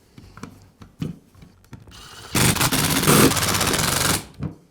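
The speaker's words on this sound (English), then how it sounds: "I'll resecure the handle to the housing with the screws." Screws being driven into the handle housing of a DeWALT drill with a power driver, heard as a close, loud buzzing whir lasting about two seconds, preceded by small clicks and handling taps.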